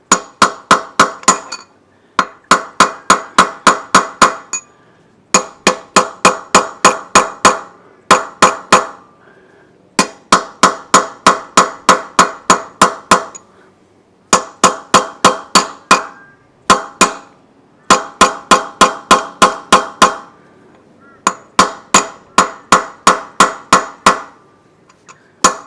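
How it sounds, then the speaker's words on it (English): New van wheel bearing cups hammered in with an old cup as a driver: repeated bursts of sharp, ringing metallic blows in quick rhythmic runs with short pauses between, loud and close, no talk. "it's good to keep an old bearing cup. You can use it for tapping in"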